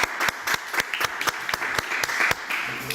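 A studio audience applauds a guest on a French news-and-entertainment show, dense steady clapping with sharp individual hand claps standing out, loud and continuous throughout with no talking over it.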